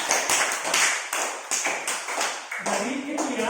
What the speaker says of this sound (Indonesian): tepuk tangan untuk kelompok bintang